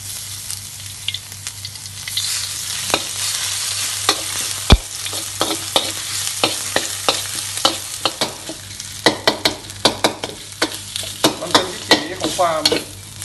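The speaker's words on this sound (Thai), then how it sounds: "ใส่กระเทียมกับรากผักชีลงไปผัดนะครับ" Garlic and coriander root stir-fried for Thai beef panang, a steady hiss of sizzling with repeated scraping clicks of a spatula against the pan, growing busier toward the end; no talking.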